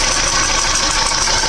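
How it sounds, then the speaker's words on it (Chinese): Loud, close idle of a car engine with a valve noise fault: a continuous dense mechanical chatter with a steady ticking texture that ends abruptly. "发动机气门异响"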